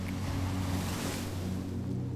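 Atlantic ocean waves wash in a continuous, even roar of surf with a low steady rumble and a little wind noise, with no voices.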